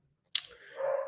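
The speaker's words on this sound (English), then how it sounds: "Again, I'm very sorry for my stupid dog barking." A single sharp dog bark, close and abrupt after a moment of silence, trailing into a brief whining tail.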